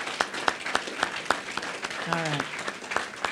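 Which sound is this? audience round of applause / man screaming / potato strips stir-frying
audience round of applause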